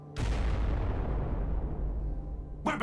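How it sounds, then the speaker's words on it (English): A grenade explosion in the turn-based strategy game Warhammer 40K Regicide, one loud booming blast with a long rumbling decay lasting over two seconds, heard alone. "Throwing grenade."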